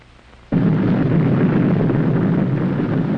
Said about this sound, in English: The amount of energy generated by a nuclear explosion is enormous.